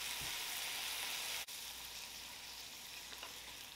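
Shrimp fry in oil with garlic on a cooktop, putting out a steady, bright sizzle that holds at an even level throughout. One brief dip or click breaks it about midway, and no one speaks.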